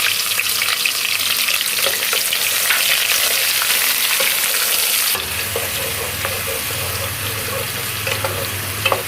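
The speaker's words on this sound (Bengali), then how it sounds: "পেঁয়াজগুলো ভেজে নেব" A little over a cup of chopped onions frying in oil with whole spices for a duck curry, a loud dense hissing sizzle that settles into a lower, crackling fry with stirring partway through.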